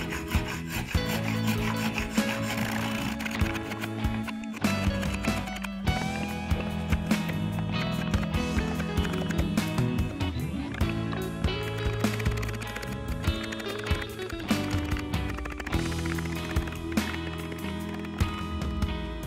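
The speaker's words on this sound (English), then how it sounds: "A spoke shave is used to roughly trim the tenon." A spokeshave roughly trims a wooden tenon while a broken rocking chair is repaired, giving a steady run of close, rhythmic rasping strokes across the wood.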